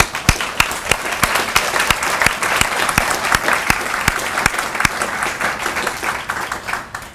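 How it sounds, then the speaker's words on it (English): An audience at a banner presentation applauds in sustained, dense clapping with a few sharp individual claps standing out near the front, loud and steady for the whole stretch before thinning slightly at the end. "let's give these guys a round of applause if we can"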